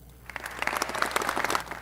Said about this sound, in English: House and Senate Republicans applauding Governor Brian Kemp announcing a plan to speed up House Bill 1437